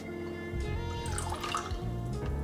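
A quarter cup of water pours into a bowl of sauce with vinegar and oil for a sweet and spicy seitan dish, a soft close trickle and splash that fades quickly, with faint background hum and no talk.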